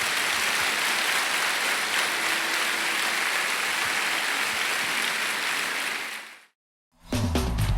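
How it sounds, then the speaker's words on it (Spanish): A church congregation gives a long, loud round of applause, thick and sustained for several seconds before cutting off abruptly into a moment of silence and a different sound. "Dele un aplauso grande al Señor."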